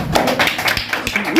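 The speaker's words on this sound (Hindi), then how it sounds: "तो चलिए ताली बजाइए।" A handful of sharp, irregular hand claps ring out close by, scattered across a brief moment rather than a steady round of applause.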